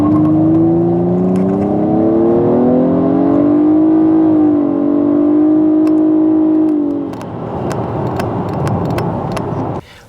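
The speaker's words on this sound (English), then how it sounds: "Man, such a quick acceleration." A 2016 Nissan Maxima SR accelerates hard, its engine note climbing and rising in pitch for about seven seconds before dropping off into lighter road and wind noise, loud and close.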